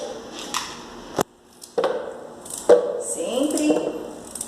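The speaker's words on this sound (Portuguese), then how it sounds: "A cenoura tem que cortar antes de colocar lá dentro" A kitchen knife cuts carrots on a board, giving a few sharp, separate chopping knocks, with faint handling sounds between them.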